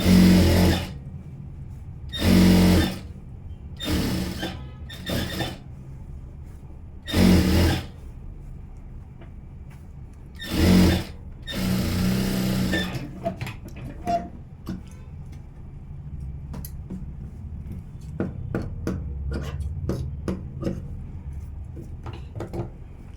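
A sewing machine stitches a princess cut blouse sleeve in several short, loud bursts of rapid whirring with pauses between, followed by lighter scattered ticks and clicks.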